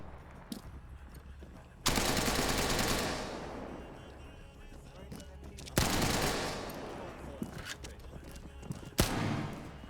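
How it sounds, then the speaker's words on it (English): Bursts of automatic weapon fire in a video game: three long, loud sustained volleys with quieter shots and movement in between, close and harsh. "Stormcrest, you have automatic weapon, do it"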